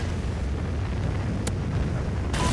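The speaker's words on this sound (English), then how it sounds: "Friendly Trinity rocket inbound." A Trinity rocket strike detonates in Call of Duty Ghosts team deathmatch, heard as a loud, sustained rumbling blast with a sharp crack partway through and another burst near the end.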